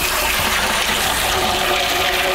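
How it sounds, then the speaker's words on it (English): Dry beans are rinsed under running water, giving a steady, close hiss of flowing water that continues unbroken for a couple of seconds. "go through and just rinse them"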